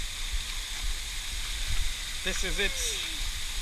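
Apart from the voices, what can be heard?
Chitsanze waterfall in Kwale County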